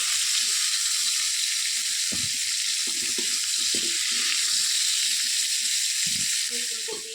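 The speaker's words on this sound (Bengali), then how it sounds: "চলো একটু ভাজতে থাকি" Cauliflower and potatoes frying in oil in a pan over a clay stove: a continuous close sizzle with occasional soft scrapes and knocks of a ladle.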